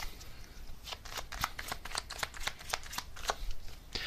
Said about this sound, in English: let's get an advice card for you in this connection, number 4